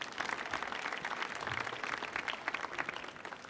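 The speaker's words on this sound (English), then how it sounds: "How about a big round of applause for yourself?" Audience applause at a big band concert on a stage, a steady wash of many hands clapping with no break for the whole stretch, fairly faint and distant.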